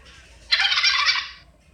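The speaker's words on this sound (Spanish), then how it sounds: "pavo," A turkey gobbles in one short, loud, close burst of rapid warbling calls, alone and without talk.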